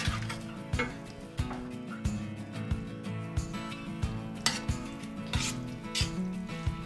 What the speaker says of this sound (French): Je vais brasser ça.